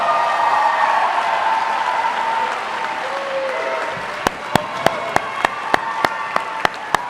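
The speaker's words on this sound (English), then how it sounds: "give them a big round of applause" A large graduation crowd gives sustained applause to families and friends at a Richmond community ceremony, a dense steady wash that thins toward the end into a few loud, evenly spaced single claps close by.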